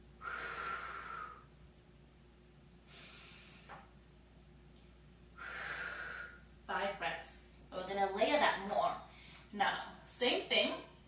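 Deep breaths during a bodyweight upper-body workout: slow, audible inhales and exhales through the nose and mouth, close and breathy, separated by pauses and followed by someone speaking.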